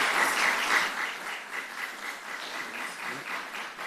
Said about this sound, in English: I'll ask that the public hold off on applause